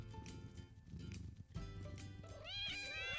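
Cartoon cat meows in the cute feline multiplayer game Play with Gilbert, a couple of short mews and then a rising, wavering meow at the end, set over background music.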